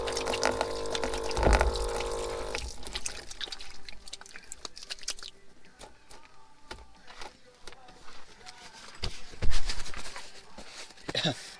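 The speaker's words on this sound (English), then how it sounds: "Wash my hands." Tap water runs while hands are washed at a campsite in Big Bear, a steady splashing stream that is loudest early on, then thins into drips, trickles and scattered knocks, with faint background voices.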